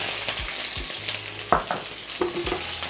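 Onions frying in hot vegetable oil for chicken fried rice, a close sizzle broken by several sharp stirring scrapes and clanks of a utensil against the pan.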